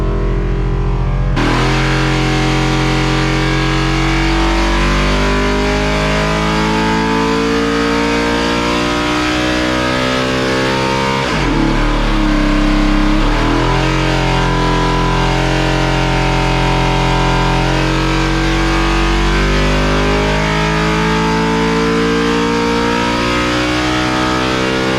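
A 1990s Ford C3 NASCAR engine on a dyno, fed by a jetted-up carburetor, roars loud and close for the whole stretch, pulling steadily upward in pitch, dipping briefly midway, then climbing again alone.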